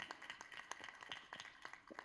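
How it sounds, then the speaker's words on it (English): Audience at the She Wings live event clapping for Dr. Kiran Bedi, a faint, distant patter of hands over about two seconds with no talk. "Can we have a big round of applause for Dr."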